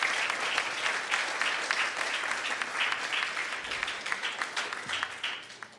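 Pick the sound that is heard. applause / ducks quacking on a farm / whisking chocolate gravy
applause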